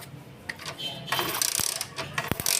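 Sharp, irregular clicks and snapping crackles up close from a 70 cc motorcycle's ignition current, mixed with mechanical ratcheting from a kick starter, no voices.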